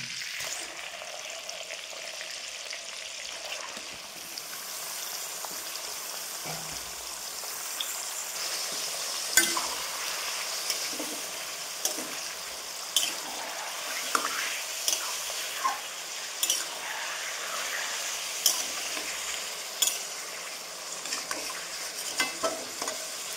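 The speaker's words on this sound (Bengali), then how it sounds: "এবার মাংসগুলো আমি হালকা করে ভেজে নেব।" Chicken pieces fry lightly in hot white oil with a little butter, a steady close sizzle running throughout with sharp spoon-against-pan clicks and scrapes from regular stirring.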